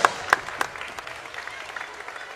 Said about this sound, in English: How about a nice round of applause for both squads?